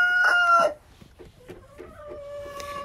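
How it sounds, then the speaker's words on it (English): A hen in a backyard coop clucking nearby: a loud squawk at the start, then softer repeated clucks and a drawn-out call. "I have an unhappy hen in there."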